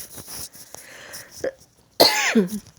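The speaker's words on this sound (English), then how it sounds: "I have to cough." A single hoarse cough rings out near the microphone, followed by a rough throat-clearing rasp after some faint background noise.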